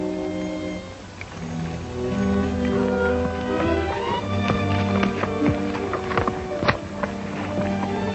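Hooves of a horse carrying two riders clop along a dusty range in a 1937 western, irregular taps rising and falling beneath a background music score.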